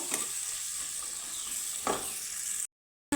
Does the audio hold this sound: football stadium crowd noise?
no